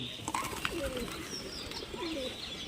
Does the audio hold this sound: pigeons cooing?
yes